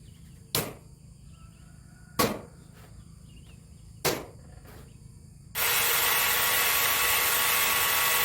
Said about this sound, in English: Using this Evolution mag drill to get the holes drilled and everything.